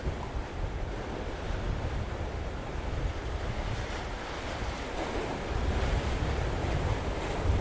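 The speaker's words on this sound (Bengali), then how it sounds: "আর এই দিকটায় হচ্ছে গঙ্গাসাগর, পুরো জল দেখো একদম ক্যাম্পে এসে ধাক্কা মারছে" Sea waves at Gangasagar on Mousuni Island wash in against a beachside camp in a steady, loud roar of surf with gusty wind rumbling across the microphone, swelling slightly toward the end, with no voices.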